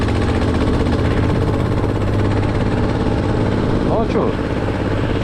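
Muravey motor scooter engine idling, a steady low putter that runs throughout with a brief shift in tone near the end, while someone speaks briefly over it.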